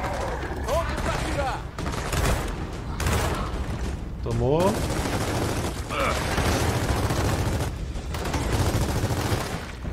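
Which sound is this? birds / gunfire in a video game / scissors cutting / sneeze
gunfire in a video game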